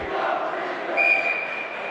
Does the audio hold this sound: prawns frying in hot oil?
no